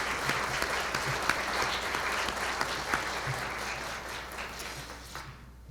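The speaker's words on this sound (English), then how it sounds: "How about a round of applause?" Sustained applause from an audience at a high school top-20 student recognition ceremony, a steady wash of clapping that fades near the end, with no talking.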